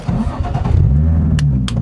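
A manual car's engine cranks and catches, settling into a steady low idle rumble close by, with a couple of faint clicks near the end.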